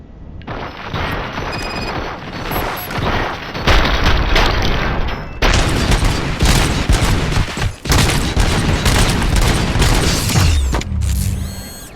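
Heavy, continuous gunfire in RoboCop: Rogue City, loud automatic bursts with booming impacts and mechanical clatter, close and nearly unbroken for the whole stretch before cutting off at the end.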